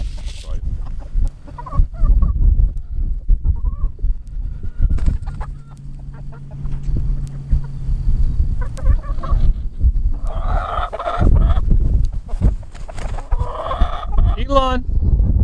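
Chickens cluck and squawk close by while being given scratch and feed, with bursts of excited calls and fluttering over background noise and a brief voice.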